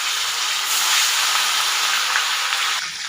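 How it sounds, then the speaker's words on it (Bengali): Tapra fish sizzles in hot oil in a wok, a steady and fairly loud hiss of frying that holds for about three seconds and then eases slightly at the end, with no voices. "এখন আমি মাছগুলো দিয়ে ভেজে নেব।"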